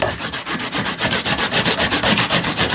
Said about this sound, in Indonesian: Kita pakai parutan yang ini nih. Parutan yang halus banget ini hasilnya. Kita parut aja seperti biasa